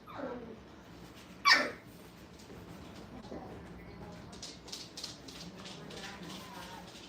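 Brittany puppies, orange and white, at a dog kennel, one sharp loud bark followed by scattered quieter yips and whimpers.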